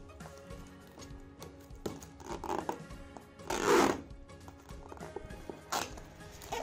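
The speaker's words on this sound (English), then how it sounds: "Let's remove the cling wrap first." Crinkling and rustling of plastic cling wrap being peeled and pulled off a gaming keyboard box, close by, in irregular bursts with one louder tearing crackle midway.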